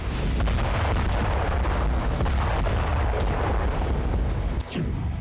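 Hezbollah rockets and missiles fire toward northern Israel in a loud, continuous barrage of booms and rumbling blasts, dense and close with no pause, one heavier whoosh near the end.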